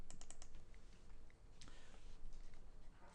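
Quiet, rapid keystrokes on a computer keyboard, in a brief cluster of clicks followed by a few scattered taps over a soft background hiss.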